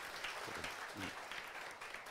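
Brief, faint applause from an audience at a celebration in Jodhpur honouring a top-ranked RPSC geography lecturer, a soft, even patter of clapping.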